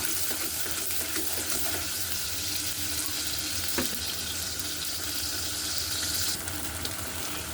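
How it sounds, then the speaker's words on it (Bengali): Onion and tomato paste fries in a pan with a continuous close sizzle and hiss, with a single faint scrape partway through. "পেঁয়াজ আর টমেটোর পেস্টটা যতক্ষণ না টমেটো আর পেঁয়াজের কাঁচা গন্ধটা যাচ্ছে এটা একটু ভালো মতো কষিয়ে নেব"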